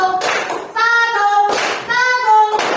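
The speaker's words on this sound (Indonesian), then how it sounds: "Berarti 1 kali tepuk 1, 2 tepuk kakinya hentakkan ke lantai." Children in an elementary classroom clap in time with a counting rhythm, with sharp bursts of clapping separated by a teacher's voice.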